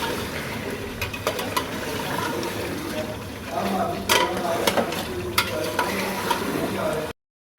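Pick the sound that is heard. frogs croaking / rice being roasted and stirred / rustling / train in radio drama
rice being roasted and stirred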